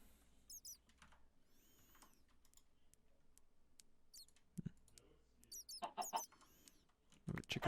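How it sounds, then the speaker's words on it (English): Minecraft chicken clucks in the Project Ozone 3 modpack, a few faint, brief bird-like calls scattered over a quiet background of mouse clicks and key taps. "Chicken."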